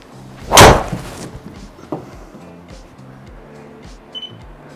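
A Cobra DS Adapt golf driver strikes a golf ball with one loud, sharp crack near the start, followed by a quieter knock and faint background noise.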